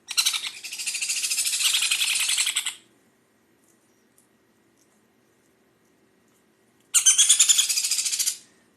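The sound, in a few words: baby sun conures chirping while being hand-fed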